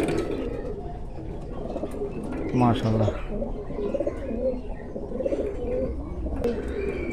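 Saki teddy pigeons of Pakistani high-flying stock coo in low, bubbling bursts at a loft, with one clear close call amid ongoing conversation between two men.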